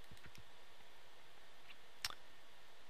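A single faint computer mouse click in a quiet room, very brief and isolated against low background hiss.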